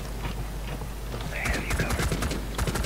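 Gunfire in Rainbow Six Siege aimed at a security camera, a quick burst of several rapid shots rising over steady game background noise near the end.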